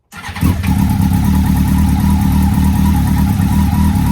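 A Yamaha R7 OW02 motorcycle that has been rebuilt and left unstarted for 18 months starts on the button with its manual choke set low. A brief crank catches quickly into a loud, steady, close idle.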